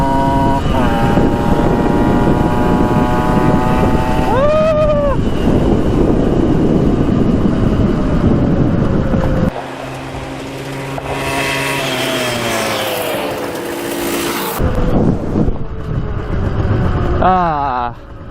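A Yamaha MX 175 dirt bike engine revs and drones loud and close while riding, its pitch rising and falling through gear changes, with a brief quieter stretch midway before it revs hard again.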